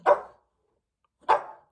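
A dog barking indoors, two short sharp barks about a second apart, close and clear with silence between.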